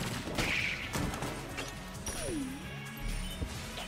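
Gunfire from the planet-firing gun in Enter the Gungeon, a string of sharp blasts and crashing impacts over busy game effects, including a swooping tone, all fairly loud and continuous.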